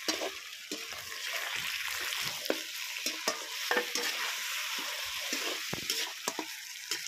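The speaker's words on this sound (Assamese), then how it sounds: "মাংস অলপ সময় ভাজি লওঁ" Chicken for biryani fries in ghee with onions, giving a close, steady sizzle punctuated by frequent sharp scrapes and clacks of a stirring spoon, with no speech.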